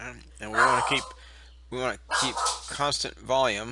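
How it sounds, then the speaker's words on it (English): A dog barks repeatedly in short bursts close by during a physics demonstration of gases, with someone talking over and between the barks. "That's my dog."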